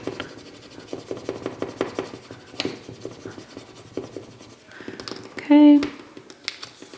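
An acrylic ruler presses and rubs vinyl transfer tape onto a mug, making a run of short, close scraping strokes in an uneven rhythm, with a brief electronic tone near the end.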